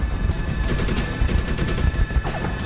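Gunfire in the video game Medal of Honor (2010): loud, dense automatic fire, overlapping bursts and crashing impacts that fill the whole stretch without pause, with no talk.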